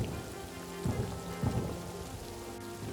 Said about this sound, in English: Of course, it could stop raining